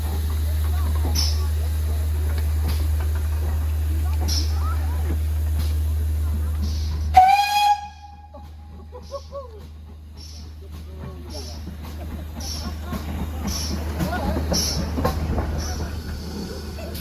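A locomotive on a Cornish preserved heritage railway runs around its train at Bodmin General. A steady low rumble ends in a sharp squeal and clank, then quieter shunting and mechanical knocks follow while people talk nearby.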